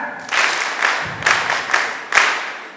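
Audience at a female student leaders' conference at Wakisha Centre claps in rhythmic surges, about one swell every half second, moderately loud and fairly close.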